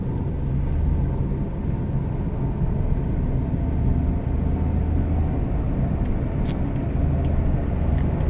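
A Nissan Almera fitted with a used Japanese gearbox drives at night and makes a U-turn. A steady low engine and road rumble continues throughout, with no speech.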